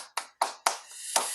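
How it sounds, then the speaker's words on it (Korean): Four sharp claps ring out in an uneven rhythm, close and fairly quiet, with a short burst of clapping at the end, from a group at a church teaching session. "우리 다시 한번 박수 한번."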